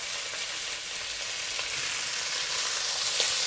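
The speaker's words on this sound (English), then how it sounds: "Keep frying them and moving them around." Dried chili and chopped garlic sizzle steadily in hot oil in a wok for a chicken stir-fry. The frying hiss is close and constant, with faint stirring, and no voices.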